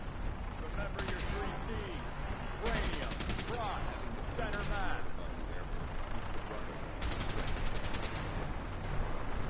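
Bursts of automatic gunfire from Brotherhood soldiers training in Fallout 4, coming in rapid rattling volleys at a moderate distance, with talk over it.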